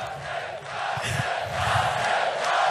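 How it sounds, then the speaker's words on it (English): Crowd at a Latvian Speedway Grand Prix stadium roars and cheers in a broad, sustained wash that swells toward the end, with a voice briefly audible within the noise. "And the crowd goes wild"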